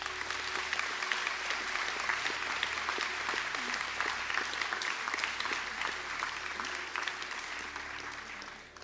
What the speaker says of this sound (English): to please stand for a round of applause.